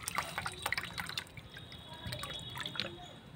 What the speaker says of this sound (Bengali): এবারে আমি দিয়ে দেব 1 বাটি জল, মাপা জল,